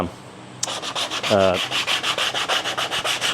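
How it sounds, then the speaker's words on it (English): Steady rhythmic sanding on a black wattle wood edge, repeated back-and-forth rasping strokes, close and loud, with a brief tonal squeak partway through. "Just putting the final touches on this edge sanding"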